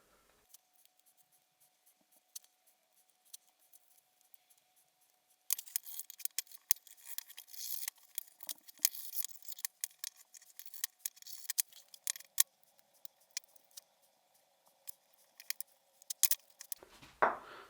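Restored steel shears are put back together and snipped, with light taps and handling at first, then a long run of crisp, close metallic snips and clicks over a faint steady hum.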